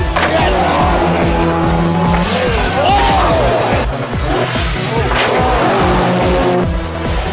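Rally cars, including a Sunbeam, race on bumpy roads at a 1980 Cork event. Engines roar loudly and close throughout, with tire squeals and rattling thuds as they pass.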